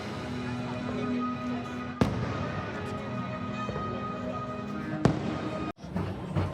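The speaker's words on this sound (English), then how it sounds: "getting to see the fireworks being set off over the castle" Fireworks bursting over the Disney castle at a theme park, with two sharp loud bangs standing out against a dense, continuous roar of crowd and ambient noise.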